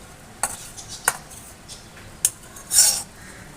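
Fried onions are tipped into a pan with a metal utensil while making spicy and sweet puffed-rice pitha, giving a few sharp scrapes and clinks against the pan and a brief hiss near the end, close and fairly quiet.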